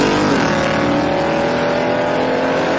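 A 1972 Dodge Charger and another drag car launch and roar down a drag strip at a summer racing event, a loud sustained engine howl with rising pitch, continuous and close throughout.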